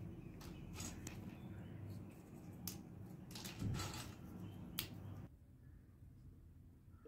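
Crisp fried corn-flour kurkure snacks being snapped apart by hand, giving several sharp dry cracks and crunches up close before the sound drops to quiet near the end.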